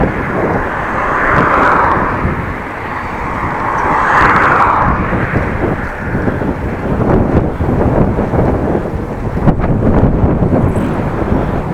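A strong headwind buffets the microphone of a Dutch bike blogger cycling home, making a steady, loud, broadband roar that swells in gusts throughout, with no talking.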